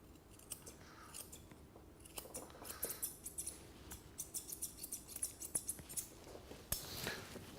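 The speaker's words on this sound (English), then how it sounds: "Using the curved scissors helps you get around" Quick metallic snips of curved scissors trimming a Cockapoo's hair close by, sparse at first then settling into a fast, regular rhythm of crisp clicks.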